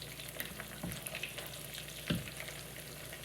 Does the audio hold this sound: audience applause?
no